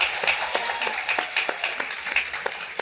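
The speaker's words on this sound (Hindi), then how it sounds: "देख रहा है विनोद, तालियां बज रही हैं" An interview audience claps for the cast of the Panchayat series, a sustained spread of many hands at moderate loudness with no voices over it.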